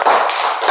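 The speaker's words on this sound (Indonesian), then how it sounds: "Tepuk tangan dulu untuk Abiang." Classroom clapping of hands, a loud, dense burst of quick claps from a group of students, close and brief with no talk over it.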